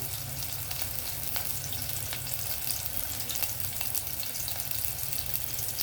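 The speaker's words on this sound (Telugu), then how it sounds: "కొంచెం ఉల్లిపాయలు వేగనిద్దాము. జస్ట్ కలర్ మారితే చాలండి." Onions sizzle steadily in oil in a pan, a dense, continuous crackle close by with faint scattered pops and no voices, while the onions cook for a tamarind stew of drumsticks, brinjal, raw banana and eggs.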